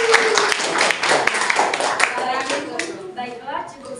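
Classroom audience clapping after a student presentation on the normal distribution, dense overlapping claps filling the room for about four seconds with some voices mixed in.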